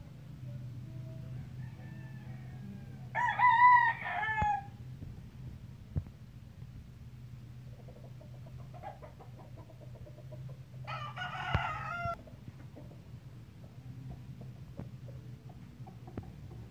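Two loud crows from Kelso, Sweater and Peruvian bloodline roosters ring out several seconds apart, with softer clucking between them, all over a steady low hum.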